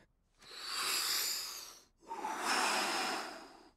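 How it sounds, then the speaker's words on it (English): A LEGO minifigure character breathing in The LEGO Movie Videogame, two long, close, airy breaths separated by a short pause, heard alone. "Step one, breathe."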